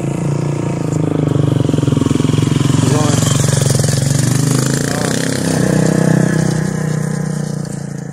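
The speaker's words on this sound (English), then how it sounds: "there's someone driving by on a bike" A motorbike rides past nearby, its engine roar swelling loudly, holding for several seconds, then easing off as it moves away.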